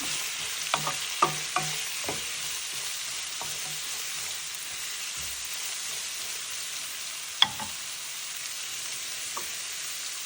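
Spicy garlic shrimp sautéing in a pan with a constant hiss of frying, a few soft stirring clicks early on and one sharp utensil tap midway.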